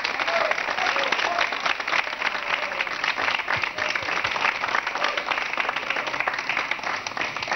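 A studio audience on a French television show applauds Sylvie Vartan, a dense, steady wall of clapping that holds at an even, fairly loud level from start to finish.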